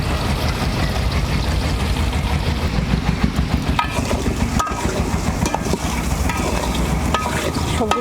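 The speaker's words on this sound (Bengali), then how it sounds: "সবজিটা একটু ভালোভাবে ভেজে নিতে হবে।" Vegetables frying with salt and turmeric in a pot for temple-style bhoger khichuri, a loud steady sizzle with scraping stirs throughout, close up and without talk.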